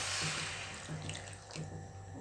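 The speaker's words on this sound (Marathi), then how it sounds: "2 कप पाणी घालणार आहोत" Water poured into a cooking pot of dates and finely chopped jaggery for a chaat chutney, a steady faint splashing stream across the short moment with no voices.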